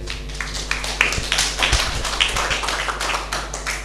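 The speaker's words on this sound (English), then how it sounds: "Applause, please." Students in a high school English classroom clapping together, a dense burst of many hands tapping in quick overlapping rhythm, close and loud, filling the room for a few seconds.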